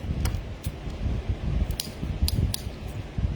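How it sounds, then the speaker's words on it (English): Scissors snip through two or three plastic drinking straws for a Hawaiian lei craft, giving a handful of short, crisp cuts spaced irregularly over a low, steady background rumble. "between 2 or 3 straws, they're pretty easy to cut with scissors"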